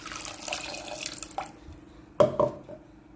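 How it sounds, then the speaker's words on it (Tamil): Water poured into a pot for rice kanji in a home kitchen, a soft trickle followed by a couple of brief, sharper splashes, close by and with no talking. "இப்போ தண்ணி ஊற்றிக்கலாம்."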